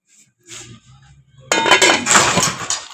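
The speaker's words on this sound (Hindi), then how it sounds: "और 2 मिनट के लिए ढक्कन बंद कर देंगे" A metal lid clanks onto a cooking pot of aloo matar curry, a sharp close clatter followed by ringing rattles after a quiet start.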